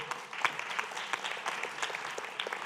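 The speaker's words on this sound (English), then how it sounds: "On peut les applaudir, elles ont très bien travaillé." Applause for the evening's interpreters at an intergenerational dialogue event: moderate, scattered clapping from an audience, individual claps standing out in a steady patter throughout.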